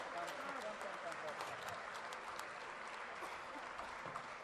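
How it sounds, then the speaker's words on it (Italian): Steady, dense applause from a concert audience at an evening performance of Sardinian music, a continuous crowd wash with voices mixed into it. "Vi chiedo un applauso perché è stato realizzato un mio sogno."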